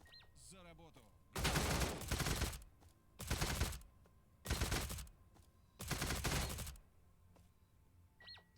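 Burst gunfire from a SIG SG 550 rifle in a video game: four loud, dense bursts of rapid shots, separated by short pauses, with faint game sounds in between.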